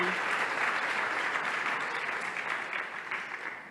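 Sustained audience applause fills a hall for several seconds in memory of Pedro Meca, a dense steady wash of clapping that fades slightly toward the end, with no voices over it.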